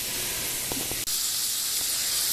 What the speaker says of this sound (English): you got a nice sizzle going on there